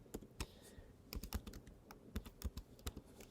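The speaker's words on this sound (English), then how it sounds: "we can start typing" Typing on a computer keyboard, with irregular bursts of close key clicks and occasional heavier taps spread across a few seconds, fairly quiet and with no speech.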